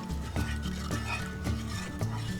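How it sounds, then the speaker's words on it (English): A spoon stirs a soy sauce and sugar mixture in a pan for talomein soup, knocking the sides in regular scraping clinks roughly every half second over a faint sizzle, close and fairly loud, no talking. "Now you stir this up."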